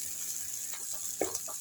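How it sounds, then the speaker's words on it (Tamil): Hot oil sizzling steadily as a tomato fry cooks down in a pan, a bright continuous hiss with brief louder pops and faint stirring, no talking. "எண்ணெய் தனியாக கொதிக்குது பாருங்க"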